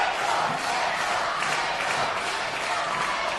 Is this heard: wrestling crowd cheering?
yes